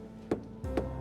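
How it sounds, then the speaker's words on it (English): Two short, dull taps on loose plaster on the nave ceiling of St. Michael's Cathedral, spaced about half a second apart and heard close up in a quiet room. "and that's the sound of a loose piece."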